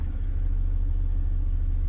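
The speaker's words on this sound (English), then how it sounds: "Turn the car on, put it in reverse." A car engine idles steadily with a loud, close low rumble, continuous and even throughout.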